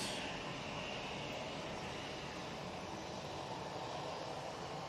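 An EasyJet airliner departing Manchester Airport for Belfast, its engines a steady, distant broadband roar that holds level throughout with no talk over it.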